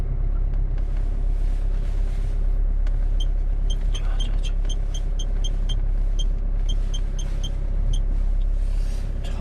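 Kia Sportage R 2.0 4WD LX reversing out of an apartment complex parking lot, with a steady low engine rumble throughout and a repeated light ticking above it.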